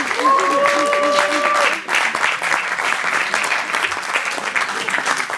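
A seated audience claps loudly and continuously, a dense steady patter of many hands, with a brief tonal whine over the opening seconds.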